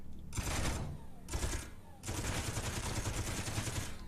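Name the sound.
weapon gunfire in video game Space Engineers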